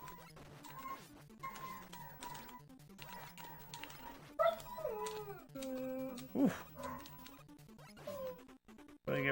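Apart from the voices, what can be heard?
dogs howling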